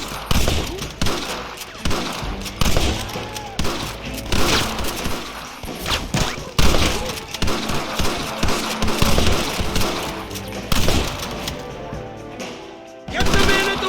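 Dense shootout gunfire from the Red Dead Redemption video game on Xbox Series X/S: rapid overlapping rifle and pistol shots crack continuously for the whole stretch, with loud bursts and booms and brief shouted voices in the mix.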